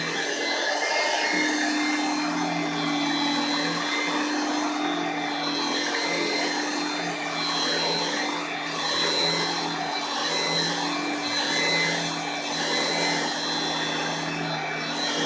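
Hoover Brush Vac vacuum cleaner running continuously while picking up dirt, a close, steady whining motor drone with a constant high tone and faint rattles of debris.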